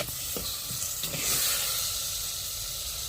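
Chopped tomatoes cooking in a pan of salted oil for a traditional drumstick and toor dal curry give off a steady, close sizzle and hiss, with a few soft stirring scrapes early on and no talking.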